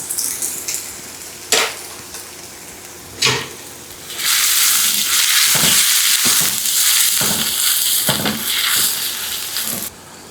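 Finely chopped onion hits hot oil with already fried green chilies, bursting into a loud, sustained sizzle after a few sharp knocks. Stirring clatters sound over the frying, and no one speaks.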